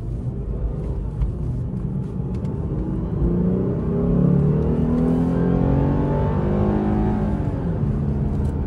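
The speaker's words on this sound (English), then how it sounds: "Well, it's nothing crazy, just the engine sounds really nice" A car engine with a stock dual exhaust revs in sport mode, a close, deep rumble that climbs in pitch and then eases back over several seconds.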